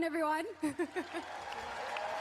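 A host speaks briefly, then a round of audience applause follows for the selection committee at the Miss Universe 2020 preliminary competition, moderately loud and continuous.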